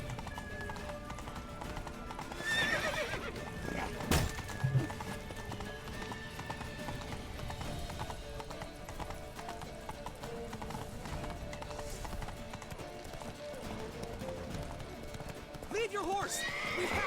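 Horse hooves clip-clop steadily through a Witcher video game scene, with whinnies and neighs breaking in and game sounds and voices layered over the galloping.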